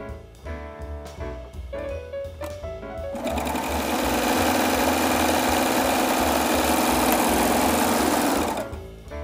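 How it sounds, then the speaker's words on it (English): A serger runs along a seam on a king-size pillowcase. After a few short taps and stops it settles into a fast, even whir for about five seconds, loud and near, and then stops. "I will go ahead and continue serging all the way down."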